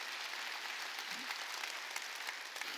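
A church congregation at a Wednesday worship service claps together in a dense, steady wash of applause that stays even in loudness for the whole stretch, with no voices over it.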